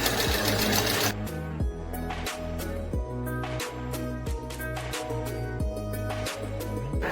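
A sewing machine stitches fabric closed for a small jointed Tilda teddy bear, a close, loud motor whir in short runs separated by brief pauses, with no talking.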